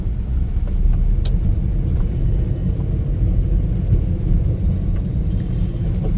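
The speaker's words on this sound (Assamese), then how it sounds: "মই নেশ্যনেল হাইৱেত বৰ্তমান গাড়ী চলাই আছোঁ, গাড়ী আছে 80ত" Car driving on a national highway at night at about 80, a loud continuous low road rumble and engine hum with tire noise, steady throughout.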